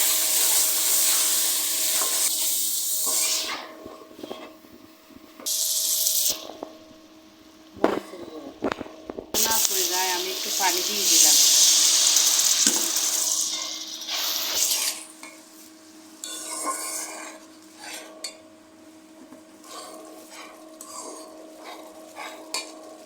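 A spice paste of garlic paste, salt, cumin powder and turmeric fries in a pan for a catla fish head curry, with bursts of sizzling, a utensil scraping and clinking as it is stirred, and quieter pauses between.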